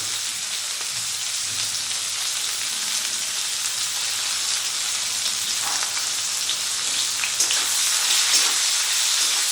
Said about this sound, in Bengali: এবারে এর মধ্যে দিয়ে দিচ্ছি পরিমাণ মতো পেঁয়াজ কুচি